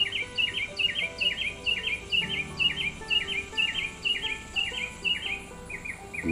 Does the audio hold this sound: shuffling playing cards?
no